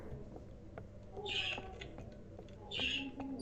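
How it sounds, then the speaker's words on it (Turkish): Birds chirp inside a dark video game, two bright call bursts rising over a quiet ambient backdrop. "Kuşlar cik cik ötüyor ne kadar güzel"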